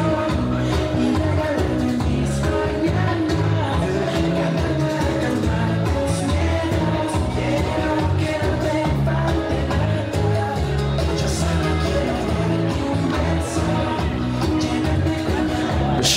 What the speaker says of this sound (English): It's called Bachata, and it looks and sounds like this.